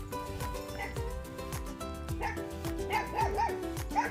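A dog barks repeatedly in short yips at a rural farm home, the barks rising over steady background music and a little talk, fairly close and moderately loud.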